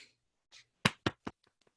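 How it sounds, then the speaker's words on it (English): A few people at a reading panel give a sparse, faint round of applause: three distinct claps close together, followed by a handful of light scattered taps that fade out. "Small round of applause, but it's very meaningful."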